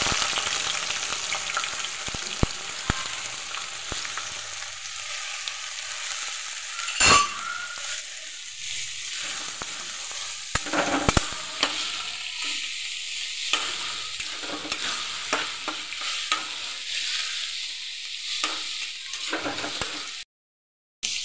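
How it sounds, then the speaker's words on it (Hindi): Onions fry in a pan under a continuous sizzle, broken by scraping stirs and a few sharp clinks of a spoon against metal, close up, with a brief gap near the end. "प्याज को हम भूनेंगे"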